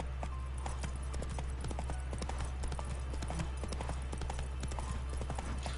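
Hooves of the horse Roach clip-clopping in a rapid galloping rhythm in The Witcher 3: Blood and Wine, steady and fairly quiet over a low game ambience.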